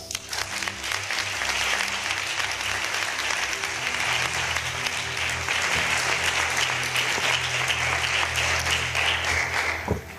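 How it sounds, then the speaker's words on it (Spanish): Sustained applause from a conference audience, a dense, even wash of many people clapping that holds steady at full strength throughout. "Un aplauso"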